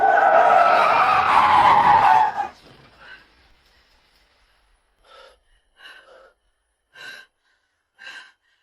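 A car whose brakes have failed skids with a loud, harsh screech for about two seconds, then cuts off, followed by scattered short, faint noises.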